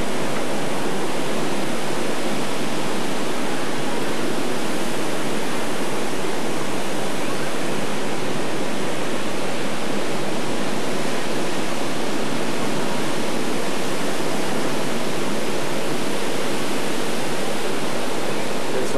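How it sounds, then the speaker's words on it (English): Ocean surf rolling in on a bright, sunny surf day, a steady, loud, unbroken roar of breaking waves filling the whole stretch with no voices over it. "Look at these waves."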